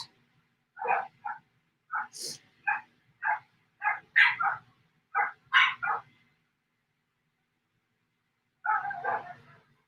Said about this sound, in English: Hear that high-pitched little bark?